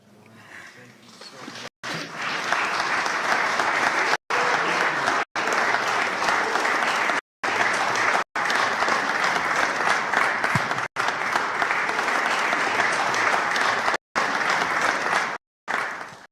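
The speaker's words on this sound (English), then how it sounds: "Give her a wonderful hand clap." An interfaith conference audience gives a book author a sustained round of hand clapping, loud and dense throughout and broken only by a few abrupt silent cuts.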